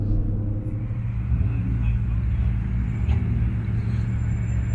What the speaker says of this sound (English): Got the Bugatti Veyron.